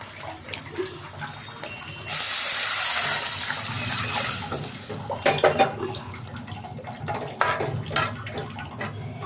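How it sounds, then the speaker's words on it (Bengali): Water poured into a hot karai of oil and well-fried onions for meat khichuri, a sudden loud rush and hiss that begins abruptly and holds steady for a few seconds, then settles into bubbling with utensil clatter. "এইবারে দিয়ে দিলাম জল"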